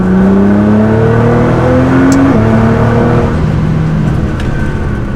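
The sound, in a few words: Nissan GT-R accelerating hard in third gear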